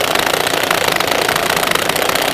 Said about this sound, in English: DeWalt is just not liking this at all.